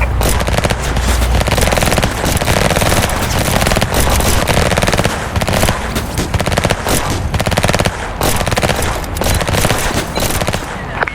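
Gunfire in the Emergency video game rattles in dense, rapid bursts of loud automatic shots that continue almost without pause.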